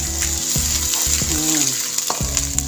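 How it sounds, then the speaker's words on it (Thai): Chili stir-fried in a pan with a steady sizzle, broken by repeated scraping and clanking strokes of a spatula against the metal, loud and close with no talking. "ผัดพริกหอมๆแล้วเนาะ"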